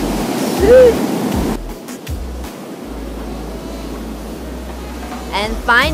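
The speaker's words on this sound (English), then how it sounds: "Finally, we arrive at the beach." Ocean surf washes at a beach in Mexico as a broad, steady hiss, with people talking and exclaiming over it.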